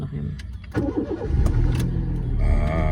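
A car engine cranks on the starter and catches, settling into a rough, close idle while people talk over it.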